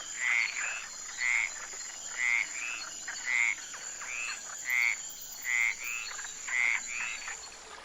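An Amazon poison dart frog calls in a steady series of about eight short, bright chirping croaks, evenly spaced roughly one second apart, close and clear over a faint background hum.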